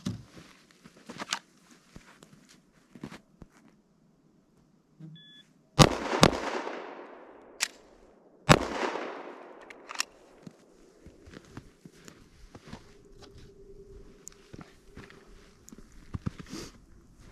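Pistol fire on a shooting range from a low-ready start: a few sharp, loud reports spaced over several seconds, each with a brief ringing tail, set among quieter handling clicks and shuffling.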